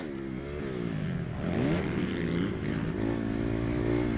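A 250cc motocross bike pushes through a deep sand section on a track, its engine droning loud and close with steady revving and slight pitch swells as the rider works the throttle.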